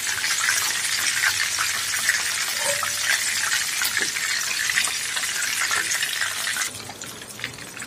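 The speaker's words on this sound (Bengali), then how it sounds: "এখন এটাকে আমি উল্টিয়ে আরেকটা পাশ ভেজে নেব।" Breaded chicken pieces for a crispy chicken burger, frying in hot oil after being flipped: a loud, steady, close hiss and crackle that drops a little near the end.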